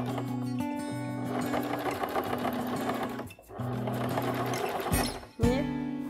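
A sewing machine runs steadily while stitching fabric, its fast rhythmic whir pausing briefly twice before resuming, loud and close with no talking.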